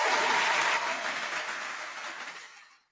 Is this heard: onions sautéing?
no